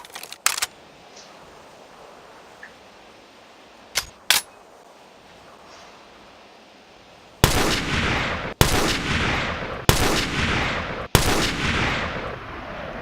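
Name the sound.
M21 rifle firing in a video game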